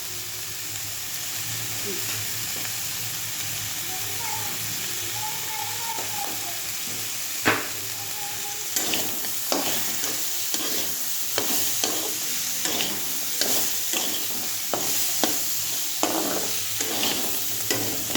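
Crab sautés in a pan with green chilies and salt, hissing with a steady sizzle. A utensil scrapes and stirs with a run of regular, close knocks in the second half.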